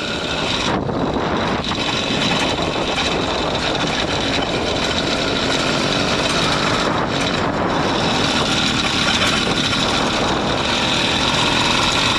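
A vehicle engine runs steadily in a nuclear test site area, a loud continuous rumbling drone with no voices, holding at an even level from start to finish.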